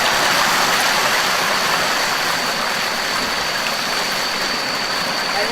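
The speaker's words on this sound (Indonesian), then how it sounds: "Ini air sungai. Air sungainya lewat." River water flows beside a house in a steady, dense rush, close and loud throughout with no pauses and no voices.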